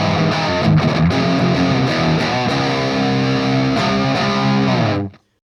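Crunchy distorted electric guitar from a Greco EG600 with DiMarzio Super Distortion bridge and Super 2 neck pickups, tuned to C, through a Ceriatone AH50 amp, played as sustained chords and riffs at steady loud level, cutting off sharply at the end.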